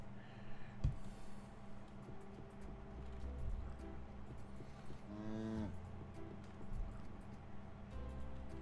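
A single cow in the Sun Haven farming game lets out a drawn-out moo near the middle, over a quiet bed of background game music and ambience.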